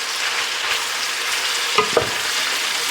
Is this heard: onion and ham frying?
yes